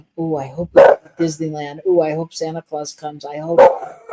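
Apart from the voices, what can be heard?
dog barking in the background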